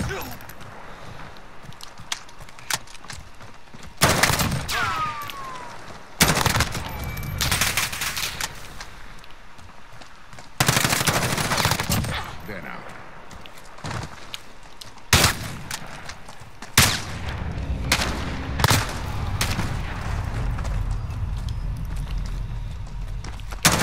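Short bursts of rifle fire crack out repeatedly in Call of Duty Modern Warfare, several loud clusters spaced seconds apart with footsteps and ambient game noise between them.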